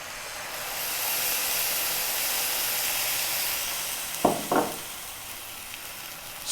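Chicken curry with coconut milk sizzles steadily over high heat, a loud continuous hiss that carries on alone. Two brief, sharper bursts stand out near the end.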